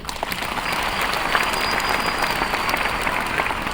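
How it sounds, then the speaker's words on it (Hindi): An audience at a MI Lifestyle program in Nagpur applauds, a dense, steady wash of clapping from many hands that fills the room at an even level from start to finish. "आई थिंक इसके लिए तालियों की जरूरत है"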